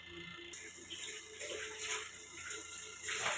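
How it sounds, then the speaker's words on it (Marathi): Running water splashes steadily, a close continuous rush with some sloshing, as pomfret fish is rinsed. "आता पापलेटला धुवून घेते"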